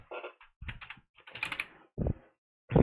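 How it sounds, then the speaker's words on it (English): Typing on a computer keyboard, close by: irregular clusters of quick clacking keystrokes broken by short pauses, with a few heavier thumps near the end. No one speaks. "we're gonna be typing"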